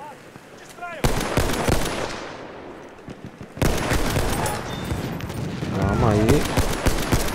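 Bursts of rapid machine-gun fire and scattered shots in the video game Battlefield 1 come in two loud volleys, with someone talking briefly between them.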